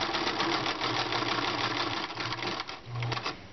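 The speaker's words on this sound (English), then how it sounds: "I'm going to sew from the sleeve to the armpit." A sewing machine stitches a raglan shirt seam from sleeve to armpit, a steady close mechanical whir with brief pauses and one short burst near the end.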